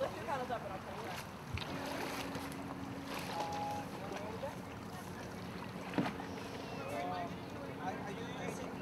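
A group of kayaks is towed back across open water, a continuous wash and swish of hulls moving through the water, with gusty wind noise and faint chirps in the background.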